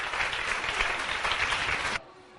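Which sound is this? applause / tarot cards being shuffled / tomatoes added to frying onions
applause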